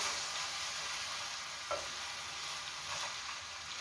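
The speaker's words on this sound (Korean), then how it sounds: "그냥 고기 넣으시면 돼요. 넣고 또 볶아주세요." Meat stir-frying in a pan for ttukbaegi bulgogi, a steady close sizzle with faint stirring scrapes, continuous and without speech.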